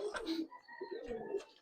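Silver and Jabra pigeons coo in soft, low, rolling phrases: one burst at the start and another about a second later, fairly close, with no talking.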